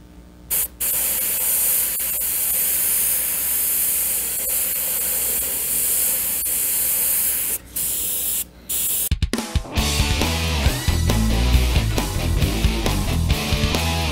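An airbrush sprays Createx gold pearl candy paint over flame artwork, giving a steady, loud hiss with a couple of brief breaks for about nine seconds, then music takes over.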